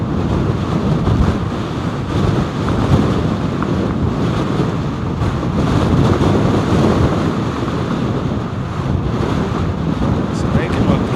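Strong wind buffets a microphone at RAF Lakenheath airfield, a loud, continuous roaring rush with gusty swells throughout.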